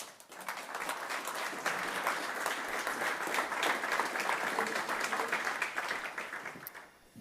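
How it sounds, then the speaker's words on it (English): A gala audience applauds as the FIS president is welcomed to the stage, a sustained wave of many people clapping at an even level for about six seconds before tapering off. "So please give a round of applause"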